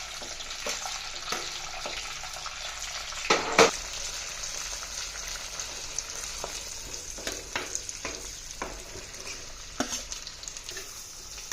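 Curry leaves and green chillies crackle and sizzle in hot oil for mango curry, a dense continuous frying hiss with a burst of loud spattering early on and scattered pops throughout.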